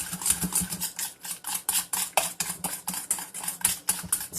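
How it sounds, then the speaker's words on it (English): A spoon stirs a hot mixture being dribbled into eggs in a bowl, with quick, regular clinks and scrapes repeating in a steady rhythm, close and clear with no talking. "So just dribble a little bit of the hot mixture while you're stirring"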